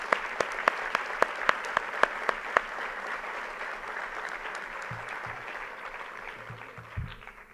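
Applause from an audience at a tribute ceremony for Politécnico students, starting with sharp separate claps that swell into steady sustained clapping, with a few low thumps near the end.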